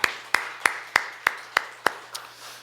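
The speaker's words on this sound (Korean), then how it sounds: "2월달 우리에게 축복으로 선물로 열어주신 하나님 앞에 우리 감사의 박수 올리겠습니다" A church congregation claps in thanksgiving, eight steady, evenly spaced sharp claps in a slow rhythm, moderately near, with a faint hum underneath and no talking.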